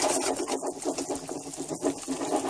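Eggs whisked by hand in a bowl for a moist pumpkin cake, a steady rapid scraping and rubbing of the whisk against the bowl that runs continuously at close range.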